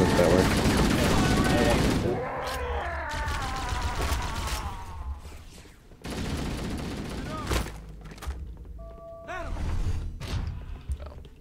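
Halo: Combat Evolved enemy gunfire comes as a dense burst of shots at first, then scattered thuds and impacts of a firefight at moderate loudness, with people talking over it.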